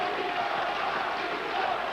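Italian boxing crowd roaring steadily in an arena in Campione during a European welterweight title fight, a dense continuous wall of cheering voices with no pauses.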